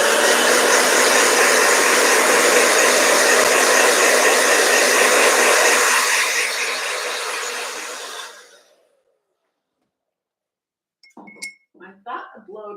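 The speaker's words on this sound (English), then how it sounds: "Blow dryer." Handheld blow dryer drying watercolor paint, a loud steady airy roar that holds for several seconds, then fades and cuts off into silence before a voice begins speaking.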